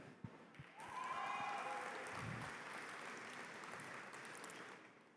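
An audience at a keynote speech breaks into applause, a faint clapping that swells after a brief quiet start and then holds steady, with some murmured voices mixed in.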